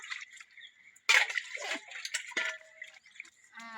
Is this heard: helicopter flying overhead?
no